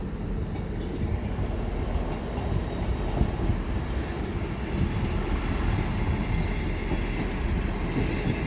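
A train rolls into platform 8 at Doncaster station, a steady loud rumble of wheels and carriages filling the whole stretch with faint rail squeal on top, no voices.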